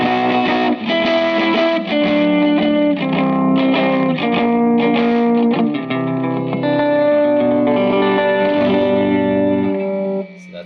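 Guitar through a Catalinbread Belle Epoch tape echo pedal, sustained chords and notes trailing loud repeating echoes that smear together with warm, slightly distorted tape-style repeats before cutting off abruptly at the end.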